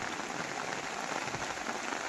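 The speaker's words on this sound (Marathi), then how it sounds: "बाहेर असा हा पाऊस" Rain falls steadily in a soft, even patter, fairly faint and continuous, with no voices.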